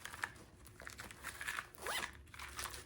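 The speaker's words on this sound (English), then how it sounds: "So this is just a felt little zipper pouch." A small felt zipper pouch being zipped, with quick close raspy zip strokes and light fabric handling noises, fairly quiet and alone without talk.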